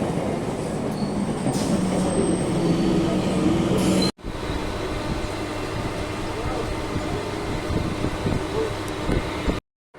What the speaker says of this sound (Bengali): এই যে আমাদের ট্রেন এসে গেছে